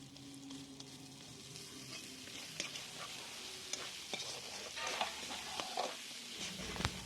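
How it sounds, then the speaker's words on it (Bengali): Chopped tomato being stirred into a frying spice masala for a meat curry, with a steady close sizzle and scattered scraping clicks of a spoon against the pan, no voices. "টমেটোটা ভালো করে নেড়ে চেড়ে নিয়েছি"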